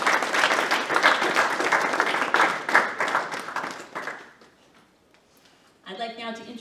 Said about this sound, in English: So let's just give preemptively all the participants a round of applause.